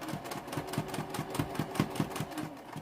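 A sewing machine stitches a heart-shaped pocket onto a gusset, its needle thumping in a fast, even rhythm at close range, running alone without talk.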